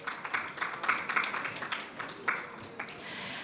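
An audience applauds speakers on stage at a youth ocean and climate action event, a moderate, scattered burst of hand claps heard from within the room, thinning slightly toward the end.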